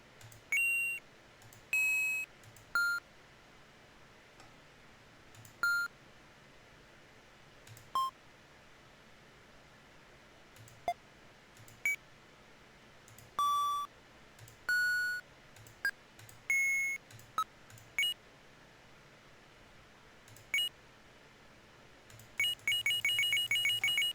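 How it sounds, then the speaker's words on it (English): Video game power-up sound effects built in Unity play as a string of short electronic computer beeps and bleeps at varying pitches. They come in quick clusters separated by brief pauses, with a denser burst at the end. "Almost sounds like a computer beeping sound."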